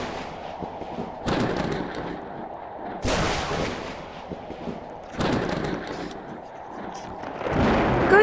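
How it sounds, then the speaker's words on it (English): Rocket fire in a Roblox game: several loud broadband blasts and booms at intervals, each with a rough decaying rumble, and a rising whistle near the end, with a voice talking over the game sounds. "Go then, rocket. I want the rocket to go."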